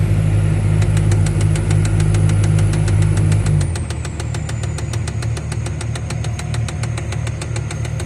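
A Kobelco excavator engine runs loud and close with a steady diesel throb and rhythmic ticking; about halfway the deep low rumble drops as the machine begins moving, a high whine shifting slightly in pitch.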